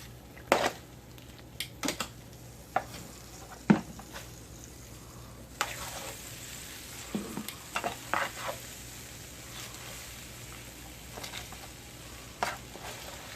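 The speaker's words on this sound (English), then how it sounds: "Now we're gonna put the veg, everything from the oven into here, like so." Roasted vegetables are tipped from an oven tray into a pot of prepared stock for chicken stock, giving scattered clattering knocks, scrapes and soft splashes at close range, with irregular pauses between.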